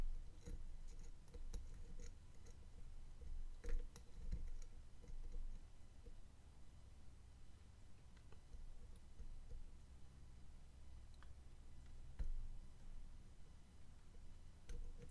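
Small metallic clicks from picking a Kasp 50073 van lock, sparse and close, scattered over a steady low background hum with a few sharper ticks standing out.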